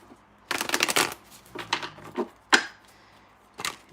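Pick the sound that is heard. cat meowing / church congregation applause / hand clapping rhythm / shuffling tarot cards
shuffling tarot cards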